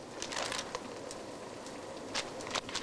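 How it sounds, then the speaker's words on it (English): Crackling, sputtering static of a poor telephone line in a 1980s long-distance phone commercial, with irregular bursts of hiss and pops running steadily through the short stretch, no voices in between. "Sounds like a bad connection."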